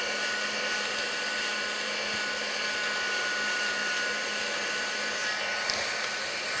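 A heat tool blows steadily on the back of a paper card, a continuous hairdryer-like rushing hiss close by and at even volume throughout, with no talking.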